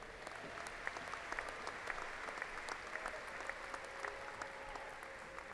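Audience applause for graduates at the Angelo State University fall commencement ceremony: steady, dense clapping from a large crowd filling a hall, fairly distant and even throughout.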